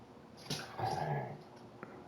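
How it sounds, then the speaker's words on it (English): A dog whimpers and lets out a low growl nearby indoors, a short strained vocal sound under a steady background hum. "my dog was gonna start"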